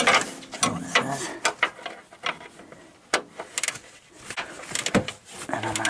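A wrench clicks and ratchets in short bursts while tightening upper control arm bolts on a 2012 Honda Accord LX, close metallic clacks and taps with pauses between, a voice talking over parts of it.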